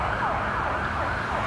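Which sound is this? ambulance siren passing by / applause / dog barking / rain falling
ambulance siren passing by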